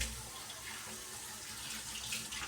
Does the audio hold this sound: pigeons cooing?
no